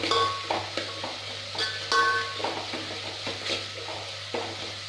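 Goat head pieces frying in a pan with ginger garlic paste for a Tamil-style curry, soft sizzling under repeated clinks and scrapes of a metal spoon stirring against the pot, close by and with no talking.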